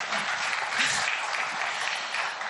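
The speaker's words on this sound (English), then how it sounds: "A huge round of applause for that." An audience at an economic conclave breaks into steady, dense applause, a broad wash of many hands clapping at moderate distance with no voices on top.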